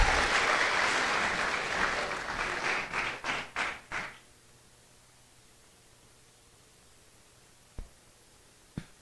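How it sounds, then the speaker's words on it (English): A school assembly audience applauds at a Hall of Fame induction, dense clapping that thins into a few scattered final claps and then fades to near silence with a couple of isolated taps. "Please give a round of applause for these inductees."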